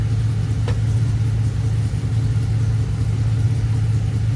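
A 1966 GMC truck engine drives down the road with a steady, loud, low drone that holds even throughout, with no voices.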